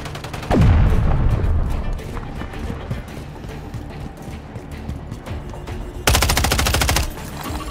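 Automatic gunfire in Call of Duty: Modern Warfare 3 (2023) during a Kill Confirmed match on the Tokyo map, with loud sustained bursts at the start and a second rapid burst near the end over a dense battle din.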